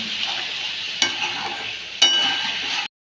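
Young jackfruit frying with turmeric powder in a pan gives off a steady, close hiss of sizzling, with two brief stirring knocks. It ends abruptly in silence.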